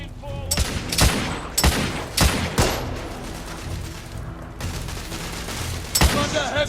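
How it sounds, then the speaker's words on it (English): Heavy gunfire in The Order: 1886, with loud, close shots cracking out in irregular bursts over a rumbling combat background, with no voices. "Under heavy fire!"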